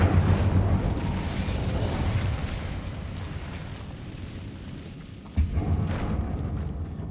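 Incendio fire spell cast in the Hogwarts Legacy video game, a sustained roaring, rumbling whoosh that slowly fades, then a sudden fresh burst near the end, loud and with no talking.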